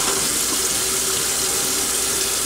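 Sink tap water running through a hookah hose, a loud, continuous close rush of flowing water without pause or voices.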